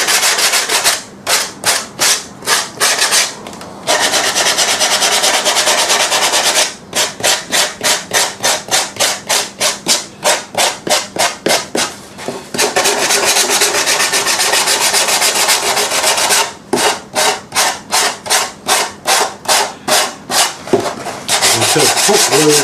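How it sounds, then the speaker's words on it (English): Loud, steady sanding of hot-glued corners being rounded, rapid back-and-forth rasping strokes in bursts separated by short pauses, close and alone without talk. "So hot glue is not really the best glue for doing areas where you need to sand."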